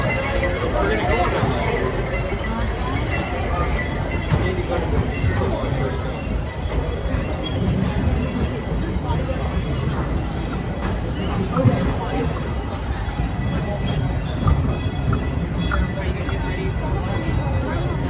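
Disneyland Railroad steam train in motion, a steady rumble of wheels and rail clatter under a constant babble of passengers talking and a public-address voice.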